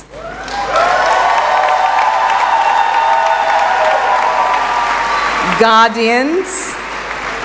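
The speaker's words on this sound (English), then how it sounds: "I would like us all to acknowledge with a warm round of applause the unwavering support of parents," Sustained audience applause fills a graduation congregation ceremony in a great hall, steady and loud, while a speaker keeps talking over it.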